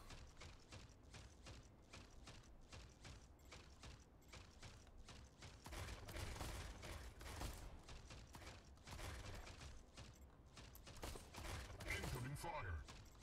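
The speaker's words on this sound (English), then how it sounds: "Incoming fire." Rapid bursts of video game gunfire crackle in repeated volleys, growing louder and denser midway through as incoming fire intensifies, with faint mechanical clicks between shots.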